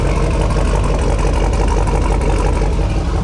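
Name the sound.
truck engine running through glass pack exhaust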